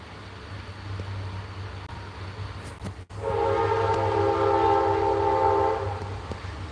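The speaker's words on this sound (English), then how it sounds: "See, the train agrees with me." A train rumbles past close by, and from about three seconds in a loud, sustained horn blares over the steady low rumble of the cars.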